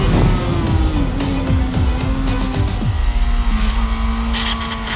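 A Chinese sport motorcycle engine-braking hard in second gear, revs falling in loud stepped drops close to the rider, with a steady drone beneath.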